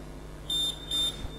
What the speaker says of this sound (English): This buzzer is telling you that you are about. You are about to start the test.